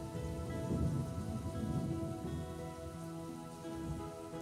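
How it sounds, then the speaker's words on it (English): Steady rain pours in the video game Trails in the Sky the 3rd, a dense hiss of falling drops with a low rumble underneath, constant and fairly soft with no voices. "Oh, rain!"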